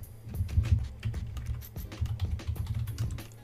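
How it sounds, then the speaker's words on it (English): Steady typing on a computer keyboard, close and fairly quiet, with irregular clusters of soft key clicks and no voices. "If you type here"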